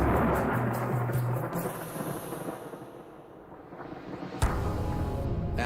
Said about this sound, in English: After the fire, rain finally falls.